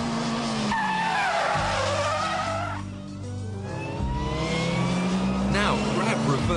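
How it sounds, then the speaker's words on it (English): A front-wheel-drive car skids through a handbrake turn, tyres squealing loudly over a revving engine that climbs, dips and climbs again. "You must build up your speed before flicking the steering wheel and then pulling on the handbrake."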